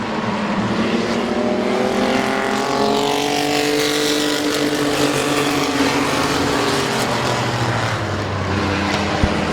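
Race cars roar around the oval at Midvale Speedway in a 2018 race. A loud, dense engine drone fills the scene as the pack circles, with pitch sweeps of cars passing close by.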